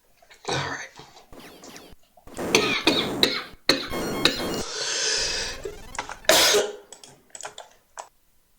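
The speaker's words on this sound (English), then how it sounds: "Coughed so hard I made myself a bit lightheaded." A person coughs hard in repeated harsh bursts and throat clears, with gasping breaths between fits and some keyboard clatter, close and loud.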